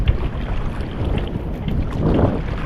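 Strong wind buffets the microphone in gusty low rumbles over a boat on open water; no one speaks.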